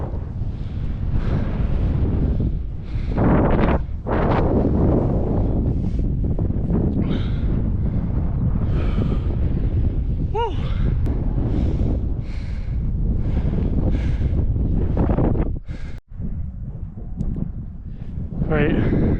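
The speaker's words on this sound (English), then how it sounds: "I think it's just too windy up here." Strong wind buffets the microphone on an exposed hilltop summit, a loud sustained rumbling roar almost throughout, with people talking underneath.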